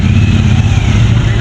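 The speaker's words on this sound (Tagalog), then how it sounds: "Harley Davidson." Harley-Davidson motorcycle engine idling loud and close, a steady deep low rumble with slight unevenness and a rising tone, running alone without talk.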